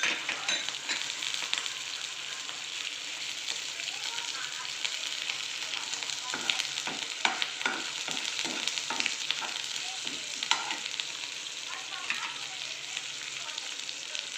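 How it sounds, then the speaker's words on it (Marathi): Onion sautéing in hot oil with curry leaves and chopped chillies, a loud continuous sizzle and frying crackle with bursts of stirring scrapes against the pan, close and steady throughout. "छान परतून घेऊ कांदा छान परतला गेला आहे तर कढीपत्ता आणि आपण जे मिरचे चॉप केले होते"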